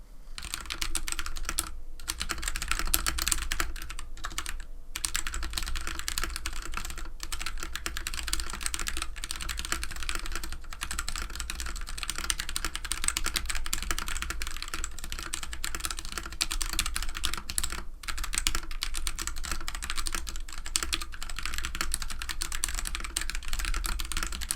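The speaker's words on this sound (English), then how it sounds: "let me show you how this board sounds with the switches it came with." Steady, continuous typing on a budget hot-swap mechanical keyboard with its stock switches, dense clacky keystrokes with a few brief pauses, close and fairly quiet, no voices.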